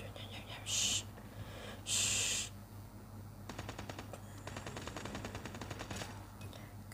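Gunfire in the mobile shooter Call of Duty Mobile: two loud, sharp blasts early on, then a fast, sustained automatic rattle of shots over steady game background noise.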